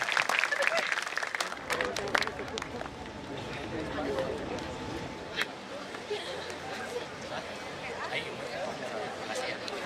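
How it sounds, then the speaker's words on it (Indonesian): Audience applause at the close of a campus memorial and prayer gathering, a dense wash of clapping that swells early then holds steady, with crowd murmur mixed in. "Oke, tepuk tangan untuk kita semuanya."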